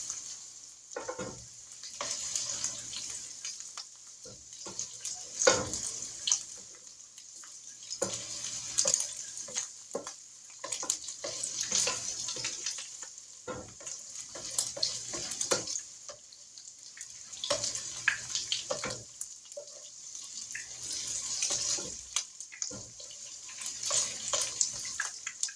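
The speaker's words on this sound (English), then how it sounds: "Now we're gonna drain the grease off of this" Hot grease sizzling and being drained off 80-20 ground beef in a pan, a steady hiss with scraping and clinking of a utensil and occasional pouring sounds, close and moderately loud.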